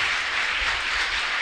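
Applause from a church congregation during a service, a dense steady wash of clapping filling the whole moment with no voices over it.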